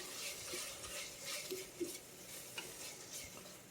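Lentils and mushrooms are stirred in a sizzling pot, with a spoon scraping and clinking in uneven strokes over a soft steady frying hiss, close and fairly quiet.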